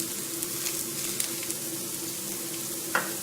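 Cauliflower frying on high heat in a hot pan with olive oil and leftover shallot oil gives a steady, dense sizzle throughout, with a brief clink near the end.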